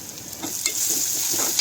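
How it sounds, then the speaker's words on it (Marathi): Ginger garlic paste sizzles and is stirred into chopped tomatoes frying in a pan, a steady close hiss with soft scraping strokes of the spoon and no talk. "आता यामध्ये आलं लसूण पेस्ट घालूयात आणि छान मिक्स करून घेऊयात."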